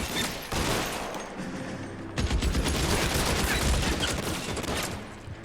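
Gunfire in the L.A. Noire video game, a sustained barrage of rapid shots and crackling volleys that swells louder midway and continues steadily to the end without talk.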